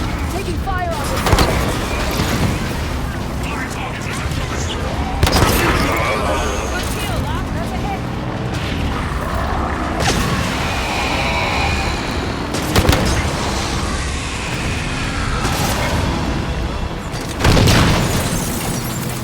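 Gunfire and heavy explosions in Halo 5: Guardians, with sharp booms landing every few seconds over steady battle noise while voices talk throughout.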